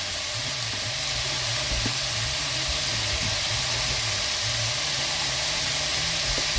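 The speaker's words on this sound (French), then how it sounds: "on va faire colorer les oignons" Onions brown in a pan with a continuous, even sizzle and a steamy hiss, a low rhythmic hum running underneath, and no talk.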